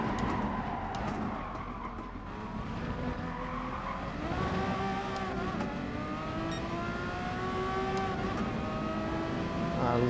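A Porsche 962 race car in a racing video game holds a steady, high-pitched engine drone, with rising and falling pitch through gear changes as it accelerates, tire noise faintly underneath.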